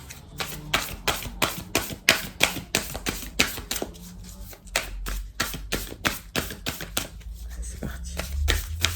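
Starseed Oracle cards are shuffled by hand in a rapid series of crisp riffling slaps and flicks, a close, rhythmic card-on-card clatter with brief pauses between bursts.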